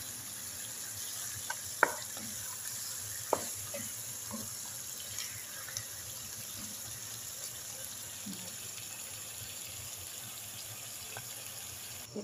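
Squid adobo frying in a pan and being stirred, with a soft, steady sizzle broken by a few sharp utensil clinks against the pan.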